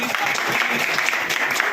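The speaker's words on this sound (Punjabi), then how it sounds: "ਇੱਕ ਵਾਰ ਜ਼ੋਰਦਾਰ ਤਾੜੀਆਂ ਦੇ ਨਾਲ" Crowd applause at a cabinet minister's visit to the Sujanpur municipal council in Punjab, a dense steady patter of clapping throughout, fairly close, with no clear voices above it.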